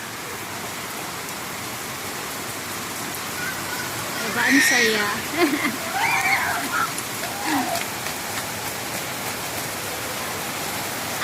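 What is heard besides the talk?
heavy rain falling, children bathing in it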